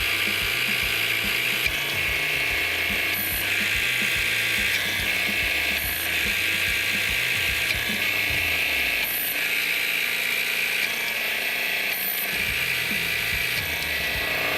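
A hydraulic pump and tool being pressurized to 3,000 PSI produce a steady, rapid mechanical clicking that runs without a break, close and even in level throughout.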